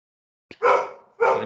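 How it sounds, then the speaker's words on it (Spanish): A pet dog barks twice in quick succession, close and loud, with a short silence before and between the barks indoors. "Permítame un segundo que está ladrando mi perro."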